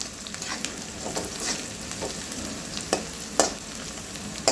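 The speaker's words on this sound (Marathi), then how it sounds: "आणि थोडंसं अद्रक यालाही छान दोन तीन मिनटं परतून घ्यायचं आहे" Ginger with green and red chillies sautéing in a hot pan for aloo palak sabji: a steady, close sizzle with soft stirring scrapes and a few sharper crackles.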